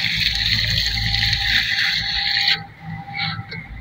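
Water poured from a mug onto the base of a mango tree, a loud continuous gush and splash that stops abruptly, followed by a few faint drips and trickles.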